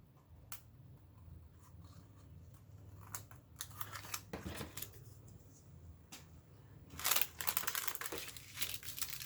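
Scissors snip through paper in short, close cuts, with irregular crisp clips, rustling and handling of the sheet, and a louder burst of crinkling near the end; quiet overall with no speech.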